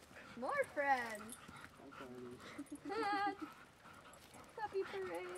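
Several dogs at a dog parade in a forest whimper and yip excitedly in short bursts, with people chattering and cooing over them.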